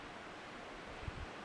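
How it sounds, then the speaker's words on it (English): A river flows in the background at a remote April wild camp, a faint, steady rushing hiss with a couple of soft low thumps near the end. "Background noise of the river."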